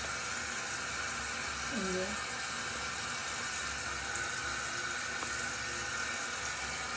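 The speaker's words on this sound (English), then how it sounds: "I'm gonna wash my food a little bit." Food being washed under a running kitchen tap, a steady broadband stream of water flowing throughout with a brief spoken word near the start.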